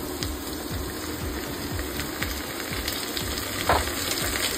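Mixed vegetables with carrots frying in a pan for pasta, a continuous close sizzle with regular scraping stirs of a utensil against the pan.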